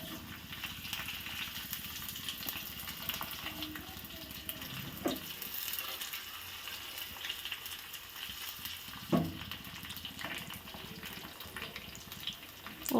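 Spices for a bele saaru tempering hit hot oil, producing a soft, continuous sizzle and crackle with a couple of sharp pops or clinks, heard up close at a low level with no voices.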